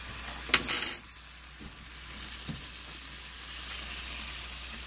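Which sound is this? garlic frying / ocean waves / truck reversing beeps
garlic frying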